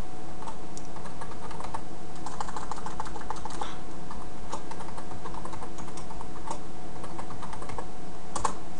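Typing a password on a computer keyboard, with steady bursts of close, crisp key clicks over a constant background hum, and no talking.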